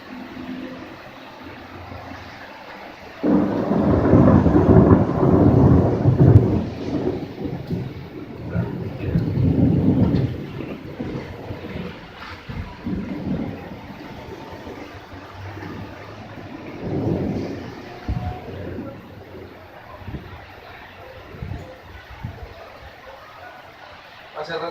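Outdoor rainstorm in Columbus, Ohio: heavy rain and rumbling thunder swell sharply after a few seconds, then ease into a steadier patter with further distant rolls, while people talk nearby at times.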